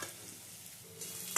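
Chopped onions frying soft in a pan for a chicken curry give a steady, soft sizzle with light stirring scrapes, close and fairly quiet, brightening near the end.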